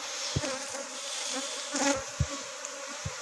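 Honey bees buzz while a large colony is moved into hive frames, a dense, continuous hum with a few brief knocks and taps close by.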